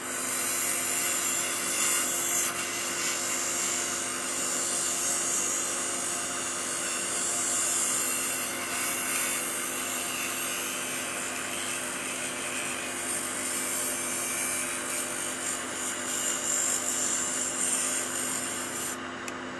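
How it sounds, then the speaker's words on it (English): A grinder grinds the burr off a joint made on an electroweld micro butt welder, giving a steady high abrasive rasp that runs without a break at moderate loudness over a constant motor hum. "kindly do the grinding of the burr on this grinder"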